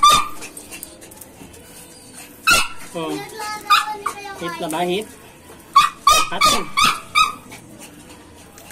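Small miniature pinscher dogs whimper and yelp in short bursts, then let out several sharp close barks, with people talking nearby throughout.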